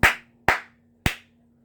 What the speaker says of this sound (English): So I'm going to clap 3 times.